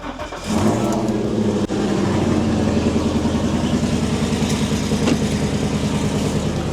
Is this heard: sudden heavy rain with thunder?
no